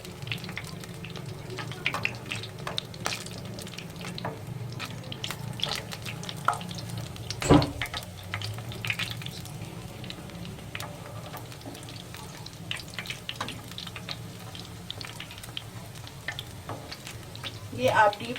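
Long chura shallow-frying in a little oil over moderate heat, a low continuous sizzle with occasional spatters and a clink, a voice speaking over it.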